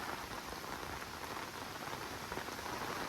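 Steady, heavy rain pours down on a farm during a short storm, a dense, unbroken hiss with no voices.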